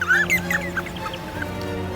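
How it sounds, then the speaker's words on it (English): D'Arnaud's barbets call in pairs across open savannah, a run of short, bright chirping notes in quick succession, fairly close, over a steady low hum of background noise. "Darnot's barbets call in pairs, their voices echoing across the savannah."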